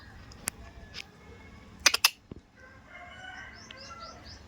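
Sparrows give sparse, quick chirps in a village, a short cluster in the middle and softer twittering toward the end, over quiet background.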